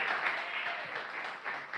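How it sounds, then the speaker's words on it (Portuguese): A church congregation clapping in praise during a sermon, a brief, fairly quiet burst of steady applause lasting under two seconds. "Palmas de vitória para Jesus de Nazaré."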